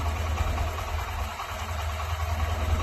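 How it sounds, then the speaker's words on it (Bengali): Honda Shine motorcycle engine idling steadily as its RPM is adjusted upward, a loud, close, continuous low-pitched putter with a slight rise in pace and no talk over it. "এই দেখুন আরপিএম বাড়তে লেগেছে।"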